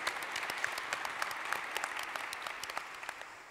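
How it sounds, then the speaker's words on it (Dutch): An audience applauding, a dense patter of clapping that holds steady and then gradually thins out. "Dus graag nog een applaus daarvoor."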